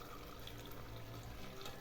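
Strained pike-perch fish broth being poured slowly, a soft steady trickle and splash of liquid, faint and continuous.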